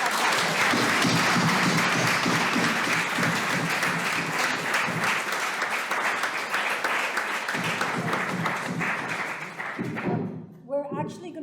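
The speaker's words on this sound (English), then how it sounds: "Please let's give them a round of applause" An audience applauds panelists at a leadership academy panel event, a loud, dense wash of clapping that runs steadily for about ten seconds, then thins out into a few scattered claps with speech-like sounds at the end.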